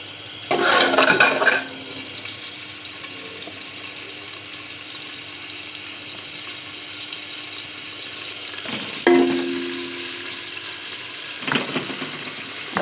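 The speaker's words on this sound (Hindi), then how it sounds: "और अब इसमें मैं खड़े गरम मसाले डालूँगी, जिसमें ज़ीरा, लौंग, काली मिर्चें, धनिया और कड़ी पत्ता ये सब शामिल है।" Whole cumin, cloves, black pepper, coriander and curry leaves dropped into hot oil for beef nihari, a sharp hiss at the start, then a low steady sizzle with a few later bursts of crackle and clatter.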